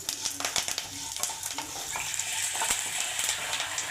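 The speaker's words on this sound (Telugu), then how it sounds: "ఇందులోకి కరివేపాకు కూడా వేసి వేయించుకోవాలి." Cashews and curry leaves fry in hot oil in a pan, a dense crackling sizzle with scraping stirs and light clinks of a spoon against the metal.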